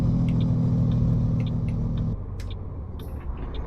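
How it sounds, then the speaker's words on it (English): A Freightliner FLB truck in American Truck Simulator gives a subdued Jake brake, a low droning engine rumble with a buzzing tone that cuts off sharply midway, leaving a softer idle rumble with light clicks and hiss. "Jake brake seems very subdued."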